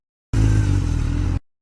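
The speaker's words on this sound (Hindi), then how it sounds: "अब देखो यूं करी मैंने बाइक स्टार्ट और यूं चले हम घर पे" A motorbike engine bursts into a loud, close idle and putters steadily for about a second before cutting off abruptly.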